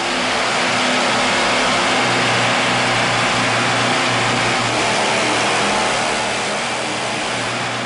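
A split cycle engine, a 1992 IFMA student project, runs steadily and loud throughout on a fuel mix of 60% water and 40% petrol, with a continuous dense mechanical drone and no talk over it.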